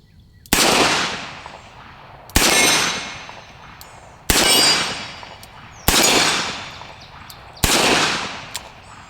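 A Smith & Wesson Model 19 revolver fires .38 Special rounds, giving five loud, sharp shots about two seconds apart, each with a ringing decay that trails off into the quiet between shots.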